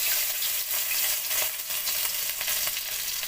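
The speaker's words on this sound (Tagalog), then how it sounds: "Maggisa lang tayo ng bawang." Garlic sautéing in a pan for balbacua, a dense, steady hiss of sizzling oil with faint stirring scrapes, close up and continuous.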